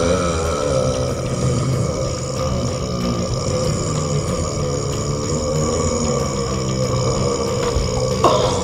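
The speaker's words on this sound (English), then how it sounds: "No way I'm going into the Guinness World Record book as the girl with the longest burp." A long, drawn-out burp, made as a record attempt, rumbles on steadily for about eight and a half seconds at an even, loud level with no break.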